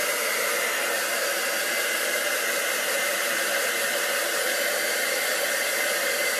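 A heat tool blows continuously and loudly up close, drying ink on a Stampin' Up! paper craft project, a steady hissing whoosh without a break.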